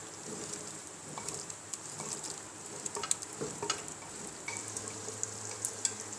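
Cooked white chickpeas, just dusted with a quarter teaspoon of garam masala, are stirred in a pot off the heat, giving soft scraping and clinking spoon strokes over a low, steady hiss.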